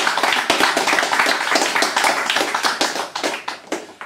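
Applause from a modest audience following a poetry reading: sharp, close individual claps forming an even, lively patter that thins slightly toward the end.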